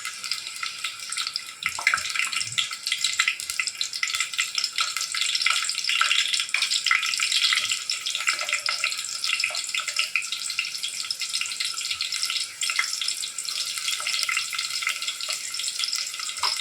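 Chopped onions fry in oil in a pan, giving a dense, continuous hiss that holds steady throughout, with a few faint knocks and clatters underneath.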